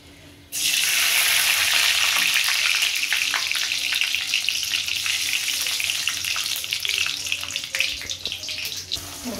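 A loud, steady sizzle of flat beans frying in hot oil in a kadhai (wok) begins abruptly and hisses continuously at close range.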